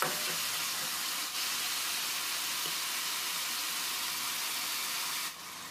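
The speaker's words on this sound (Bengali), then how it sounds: "এখানে আমি অল্প জল দিয়ে দিচ্ছি যাতে পেঁয়াজটা পুড়ে না যায়" Onions sizzle and fry steadily in a pan with a little water added, cooked for a potato and rohu fish curry; a constant close, loud hiss with a brief dip near the end.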